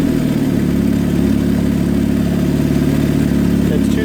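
A Kawasaki KZ400 motorcycle engine, mid-rebuild in a tracker build, runs steadily with a throttle blip, a loud, close, rough mechanical drone holding an even rhythm throughout.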